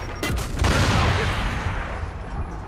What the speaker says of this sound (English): how did the grenade way over there explode the barrel way over here?